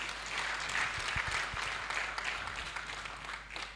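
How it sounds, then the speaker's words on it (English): Audience at a Uganda Aquaculture Census 2025 report presentation applauding the presenters, a moderate wash of many hands clapping in a hall, steady then tapering slightly. "Let's give all our presenters a very big hand clap."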